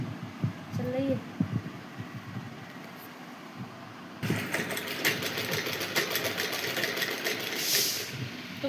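A sewing machine stitches a pocket onto a garment with a half-inch margin. Someone talks quietly at first, then the machine starts and hums steadily and closely for the rest.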